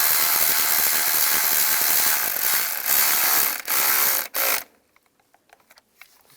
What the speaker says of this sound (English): Get the bolt started. And we'll snug it down.